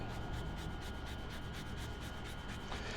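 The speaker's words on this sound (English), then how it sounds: "We've got fresh ginger that we're just going to grate on a microplane" Fresh ginger is rubbed quickly over a microplane grater in a kitchen, a soft rhythmic rasping of repeated short strokes, close and fairly quiet, with no talking.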